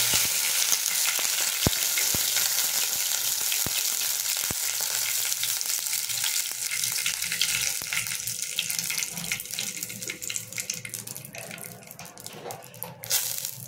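Two pieces of bay leaf, along with dried red chilli, fry in hot oil for potol dolma. A loud, dense hiss and crackle of sputtering oil runs throughout, with a few sharp pops and clicks, and no voices.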